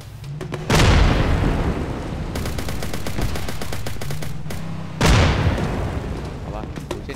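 Gunfire in the video game ArmA: two loud booming shots followed by a rapid burst of automatic fire, heavy and close, while players talk over it.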